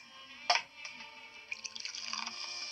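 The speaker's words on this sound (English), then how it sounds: "She pours the champagne and leans seductively toward Tracy" Champagne is poured into a glass in a short, quiet burst of splashing and dripping liquid with a faint fizzing trickle that continues to the end.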